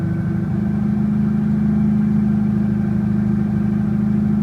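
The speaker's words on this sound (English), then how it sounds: "I got the car to start and idle pretty decent" A Toyota 2JZ engine rebuilt with forged rods and pistons idles steadily after a hard start, a continuous low mechanical drone with a faint rhythmic pulse, close and loud, with no voices over it.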